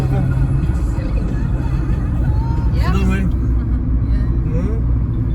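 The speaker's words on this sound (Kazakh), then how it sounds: "Машиналар, кейбір машиналар озып барады." Cars pass and overtake on a road between Poland and Slovakia, heard as a steady loud engine and tyre rumble from inside a moving car, with a voice talking over it throughout.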